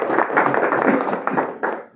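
Close, brisk applause from a club meeting audience, a burst of dense hand clapping with uneven peaks that thins out and fades at the end.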